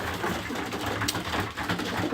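Pigeons cooing inside a loft holding weaned young birds and stock birds, a steady layered murmur of soft low coos throughout with no talking.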